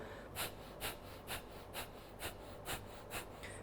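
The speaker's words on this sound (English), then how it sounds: "breathing out fast through your nose at the same time as sucking in your belly" Kapalbhati pranayama breathing: eight fast, forceful nasal exhales in a steady, even rhythm about every half second, close and fairly quiet with no talking.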